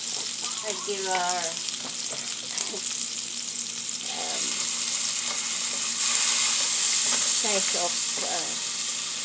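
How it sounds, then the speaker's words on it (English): Garlic sautéing in a pan, a steady close sizzle and crackle running throughout while someone talks over it at intervals. "We already put our garlic and sauté it like that."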